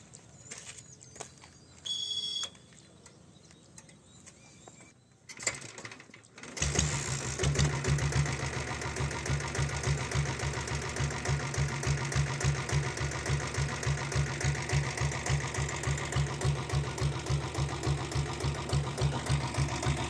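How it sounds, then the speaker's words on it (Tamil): A Royal Enfield Bullet with a 7.5 HP diesel engine is kick-started: a few quiet clicks and knocks, a brief pause, then the single-cylinder engine fires and settles into a loud, steady, rapid thumping idle. "அப்படியே உங்களுக்கு இந்த வண்டியை கிக் ஸ்டார்ட் பண்ணி காமிச்சிடுறேன்."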